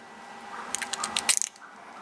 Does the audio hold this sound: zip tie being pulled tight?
yes